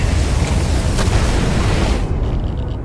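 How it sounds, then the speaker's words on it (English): A big explosion in the video game Starfield: Shattered Space: a loud, sustained roaring boom with heavy low rumble that fills the whole stretch, easing slightly in its final moments. "Am I allowed to see the explosion?"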